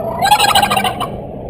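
A single quick, warbling turkey gobble imitated with a hand-crafted pot call, close and clear, trailing off into quiet.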